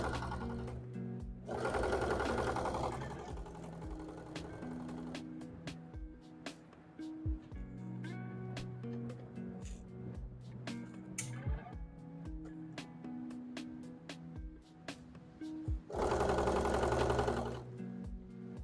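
Sewing machine stitching a Pokemon hat, running steadily with a rapid mechanical clatter throughout and two louder, denser bursts of fast stitching, close up and without talk.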